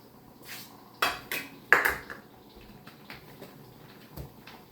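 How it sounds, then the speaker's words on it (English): A spoon knocks and scrapes against a large stock pot of peach jam, giving a few distinct clanks and several softer taps spread across a quiet kitchen. "I am not tall enough to stir this stock pot unless I am standing on my step stool"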